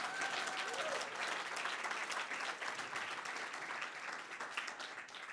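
Sustained applause from a large audience at a university lecture, dense and steady clapping filling the room for several seconds without pause.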